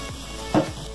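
Pimento peppers and fine thyme sizzle in a hot pan while beef pie filling is made, a steady low frying hiss with one brief louder burst near the middle.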